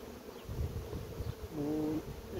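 Honeybees buzz around a frame lifted from a hive, a steady low swarm hum with a brief louder, clearer drone rising near the end.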